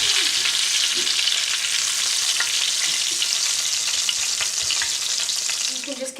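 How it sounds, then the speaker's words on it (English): Chicken pieces frying in hot oil for fried chicken, a steady, loud broadband sizzle that holds throughout with scattered pops and crackles and no talking. "You can just continue putting your chicken in the oil and frying it as you did before"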